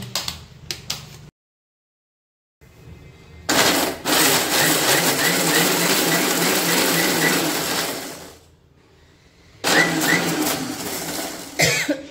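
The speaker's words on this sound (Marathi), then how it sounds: "तर मी बंद चालू या प्रकारे मिक्स चटणी वाटलेली आहे." A mixer grinder whirs loudly while grinding an herbal chutney, run in two bursts with a short stop between them, and faint clicks and handling come just before it starts.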